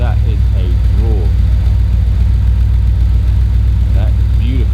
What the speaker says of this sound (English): Wow, that's a roar. That is a roar.